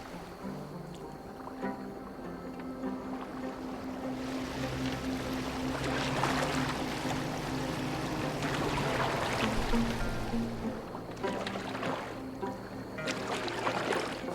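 A boat moves across water in Assassin's Creed Valhalla, with a steady wash of water and hull noise swelling louder in the middle, over a low ambient game drone and no talk.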